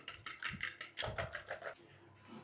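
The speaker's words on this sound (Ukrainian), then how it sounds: "Виделочкою гарно все перемішуємо." Two chicken eggs beaten with a fork in a bowl make quick, rhythmic clinking taps, close and steady, about four strikes a second, with no talk.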